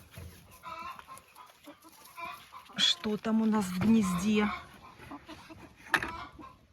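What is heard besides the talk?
hens clucking in the coop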